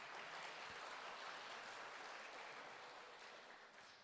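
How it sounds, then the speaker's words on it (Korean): A church congregation applauds students during a sermon, a broad, continuous wash of clapping that slowly tapers off toward the end. "우리 사랑하는 학생들을 위해서 한번 박수 한번 보낼까요?"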